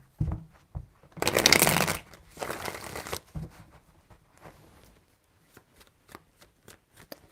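Tarot cards are shuffled in a quick riffling burst followed by a softer second pass, then scattered light taps and card handling in a quiet room.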